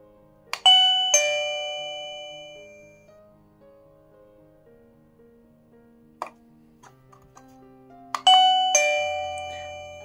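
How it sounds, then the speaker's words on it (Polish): Wi-Fi mini doorbell with HD camera sounding its chime as the button is pressed: two bright ding-dong rings that ring out and fade, a quiet gap with small clicks, then the chime rings again, close and clear. "Teraz w momencie, kiedy ja tutaj naciskam przycisk, to odzywa się tutaj dzwonek"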